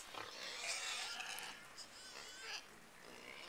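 Pigs on rural land in Ecuador grunt and squeal excitedly over coconut meat, their calls faint and scattered in short overlapping bursts.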